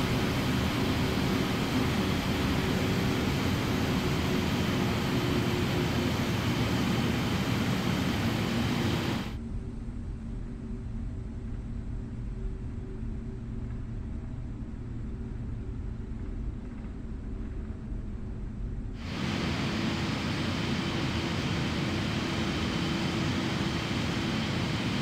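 A PMDG 777-300ER airliner taxiing in Microsoft Flight Simulator gives off a steady broadband engine and cabin rumble. The rumble drops to a quieter, duller hum for about ten seconds in the middle, then returns at full level. No one speaks.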